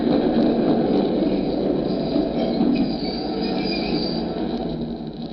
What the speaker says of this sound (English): The last train was just pulling in.